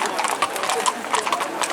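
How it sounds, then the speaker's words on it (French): Working Camargue horses' hooves clip-clop at a lavender festival in Sault, Vaucluse, a steady clatter of repeated hoof strikes mixed with crowd chatter and talk. "il monte des chevaux Kama qui sont leur outil de travail"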